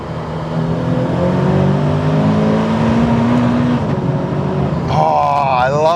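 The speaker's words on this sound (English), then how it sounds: "Oh, I love those upshifts." A supercharged Toyota GT86 pulls hard under acceleration, its engine note climbing steadily through the revs before an upshift, then rising again in a loud, sustained, close-up drone.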